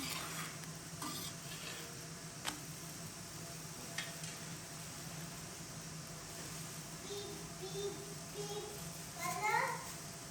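Chana dal and wheat flour dosa batter cooking on a hot pan, a steady soft sizzle with occasional scraping and clinks of a utensil while a person talks.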